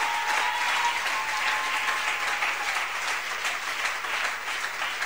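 Sustained applause from a church congregation offering acclamation to God during a worship service, a dense, even roar of many hands clapping without a break.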